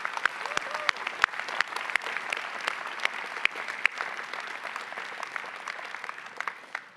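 Audience at a high school commencement ceremony applauding the crew, a continuous even clapping from a large crowd in a hall, with sharper individual claps standing out through the steady wash.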